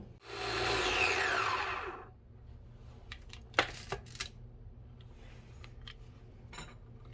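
A blender whirs loudly for about two seconds, mixing vanilla bean paste with xanthan gum, then stops, leaving only faint clicks and small handling knocks.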